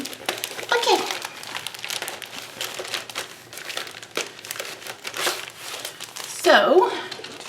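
Crinkling and rustling of shimmer paper and sequined packaging as items come out of a Brutus Monroe Inspiration Box, in bursts with a louder crackle near the end, under soft background talk.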